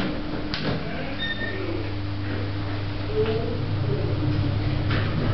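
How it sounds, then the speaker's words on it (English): Lift doors slide shut over a steady machinery hum, with faint clicks and a soft thud partway through, in a lift with front and rear door sets serving a lower service level. "Doors closing."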